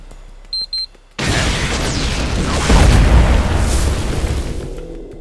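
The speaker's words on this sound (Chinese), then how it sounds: "白毛男被淹没在爆炸声里" A bomb blast in an island battle-royale film erupts after a couple of short alarm beeps, then a loud, sustained rumbling roar swells with debris and a heavier surge midway, trailing off slowly.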